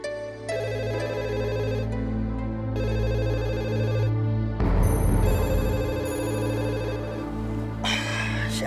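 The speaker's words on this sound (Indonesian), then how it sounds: "Siapa sih telepon malam-malam ini?" A telephone rings at night indoors, repeated electronic ring bursts with short gaps, followed by a shifting clatter and more ringing tones toward the end.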